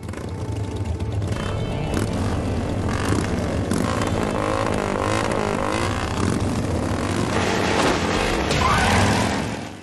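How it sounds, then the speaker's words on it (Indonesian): Motorcycles racing at high speed in a film scene, heard as a loud continuous engine roar with rising and falling pitch and tire noise, dense and close throughout. "mereka berdua memacu motornya dengan kecepatan tinggi"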